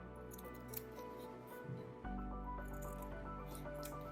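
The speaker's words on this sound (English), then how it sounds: "cut away excess cloth from the corners so it doesn't bulk when we turn it over" Scissors trimming excess cloth from the sewn corners of jumper top pieces: close, quiet snips and rustling cloth, with a sharper cut near the middle, and no talking.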